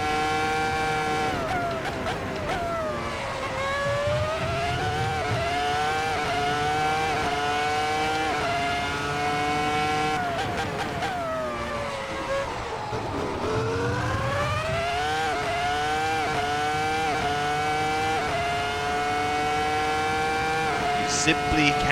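A Ferrari F2004 Formula One car in an ASR mod for a racing video game screams at high revs, its engine pitch climbing through the gears with sharp drops at each shift and braking, sustained and loud.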